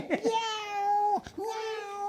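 A human voice mimics a cat's meow with two drawn-out, whiny meows in quick succession, close and clear, the second after a brief break.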